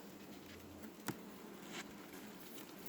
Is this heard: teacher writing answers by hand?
no